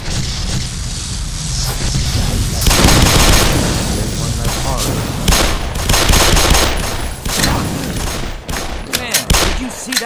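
Rapid bursts of gunfire from the video game Black Mesa crackle through the clip in dense, loud volleys with heavy booms, a voice talking intermittently over the shooting.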